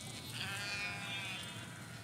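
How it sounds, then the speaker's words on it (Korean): Sheep bleating on the Mongolian grasslands, a steady chorus of overlapping calls from a flock nearby, continuous and fairly loud with no talk over it. "진짜 음메음메하고 다니네."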